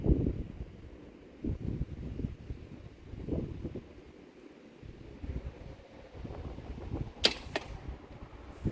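A sharp snap and swift whoosh of an arrow released from a compound bow, brief and close, against a background of rumbling wind.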